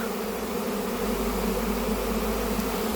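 A honey bee swarm gathering around a bait box hums in a dense, steady drone, close and loud, with the buzzing holding constant throughout.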